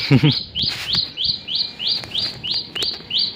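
A sparrow at a farm chirps over and over in an even rhythm, about nine sharp, bright calls close by, with a brief voice at the start.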